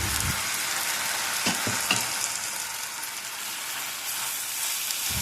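Tomatoes and green chillies fry in a pan for a palak dish, a dense, steady sizzle broken by a few knocks of a spoon stirring, close and loud.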